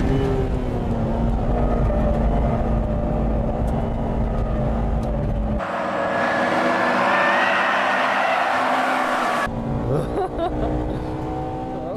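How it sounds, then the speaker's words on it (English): A turbocharged car racing on a circuit against a three-door Honda Integra and a Subaru Impreza, engines roaring loud and continuous throughout, with the tone shifting as the cars pass and head into a corner. "That car is turbocharged, isn't it?"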